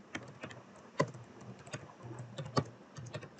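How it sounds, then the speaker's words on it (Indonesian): Someone types a PHP Artisan command on a computer keyboard, a close, fairly quiet run of irregular key clicks with a few sharper, louder presses, no talking. "Terus kita ketikkan PHP Artisan"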